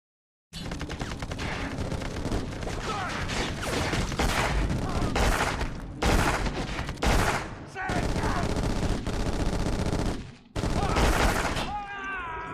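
Sustained video-game gunfire with bursts of shots and booms, loud and near, broken by a few short pauses.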